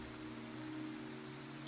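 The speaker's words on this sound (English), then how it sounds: "Now it's just rain" Steady, soft rain weather in the video game Pharaoh Dynasties, a constant even hiss with no breaks, alongside a low steady hum of game ambience.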